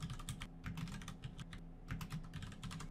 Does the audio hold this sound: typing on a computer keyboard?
yes